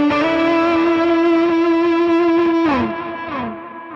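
An electric guitar through a Browne Amplification Protein V3 drive pedal with both drives stacked rings out a thick, saturated sustained chord, then a couple of slides and bends before it thins out, loud and alone.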